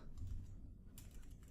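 Quick keystrokes on a computer keyboard, a short soft burst of tapping close by with no voice over it.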